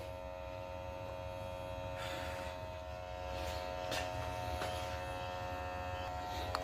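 Smoke machine running during a vacuum leak test on a Subaru WRX/Legacy 2.0L twin-turbo, a steady electric buzz and hum continuing throughout with faint clicks and rustles near the middle.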